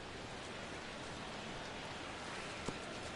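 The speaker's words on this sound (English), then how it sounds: "Rain continues to fall here in the 6th." Steady rain pours during a baseball game on PS4, a dense, even hiss throughout with one faint knock near the end and no talk.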